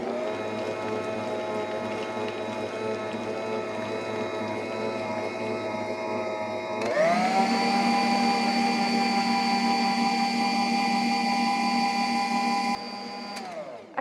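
Stand mixer fitted with a paddle attachment beating peanut butter cake batter, a steady close motor whine that steps up to a higher, louder speed about halfway through and runs continuously before slowing at the end.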